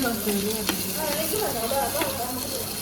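Onions frying in a pan for a kettle chicken dish, a steady bright sizzle running through the whole stretch, with faint background voices and a few light clinks.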